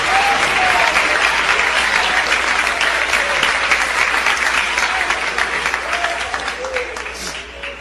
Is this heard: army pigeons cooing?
no